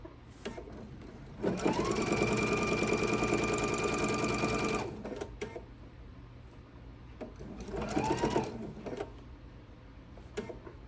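Sewing machine quilting a fabric tree skirt, a rapid stitching run of about three seconds, then a pause and a shorter second burst, close and clear in a quiet room.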